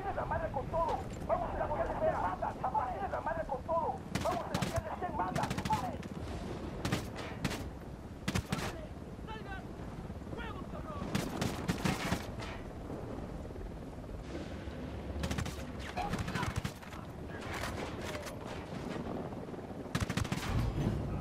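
Combat gunfire in Ghost Recon Wildlands, repeated sharp rifle and automatic bursts throughout, some near and some distant, with explosions and rumble beneath and spoken voices over the fighting.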